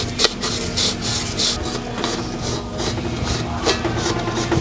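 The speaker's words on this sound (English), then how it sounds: "you're gonna wanna get your rag in there and clean that out" Rag rubbing and wiping debris out of the groove in a main journal of an RB26 engine block during a rebuild; a continuous close scrubbing rasp with soft irregular swipes and no talking.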